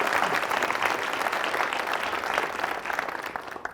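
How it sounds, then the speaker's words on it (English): A studio audience at a televised foreign policy debate claps for a panelist. The applause is fairly soft and steady, thins slightly near the end, and has no talk over it. "Round of applause for Dumsani, ladies and gentlemen."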